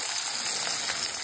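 Chopped onion frying in hot oil with a dried red chili, a bay leaf and whole cumin, a steady bright sizzle that stays close and even throughout.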